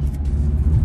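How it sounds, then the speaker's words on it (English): A turbocharged car fitted with an open Eventuri intake rumbles steadily up close, a deep continuous engine drone with a faint turbo whistle riding on top, no talk. "you definitely can hear a little bit of extra turbo whistle"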